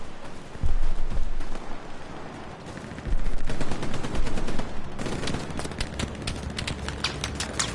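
A machine gun fires in rapid sustained bursts during a World War II battle in the video game Hell Let Loose, loud and dense with overlapping gunfire, easing slightly before resuming at full intensity.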